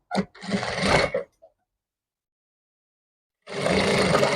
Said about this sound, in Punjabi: ਹੁਣ ਆਪਾਂ ਇੱਕ ਵਾਰ ਇਹਨੂੰ ਸਿੱਧੀ ਸੀਨ ਲਗਾ ਲਾਂਗੇ